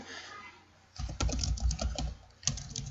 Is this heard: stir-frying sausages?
no